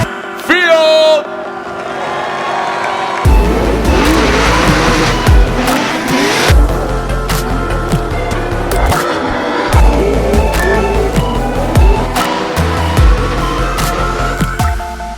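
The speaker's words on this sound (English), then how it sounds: "the 777 Falcon Tires Drift Cave 4-Link exhaust Corvette" Falcon Tires Drift Cave C6 Corvette drift car with a 4-Link exhaust, its engine roaring loud and close while tires squeal through a long slide, with a voice talking over the noise.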